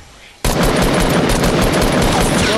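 Rapid automatic gunfire in a video game, a loud close burst of evenly spaced shots that starts abruptly and runs without pause.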